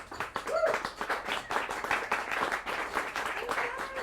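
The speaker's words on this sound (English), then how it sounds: "So let's give them a round of applause." Round of applause from a small evening startup meetup audience, fairly faint and loose with distinct individual claps, a bit of murmured voice mixed in.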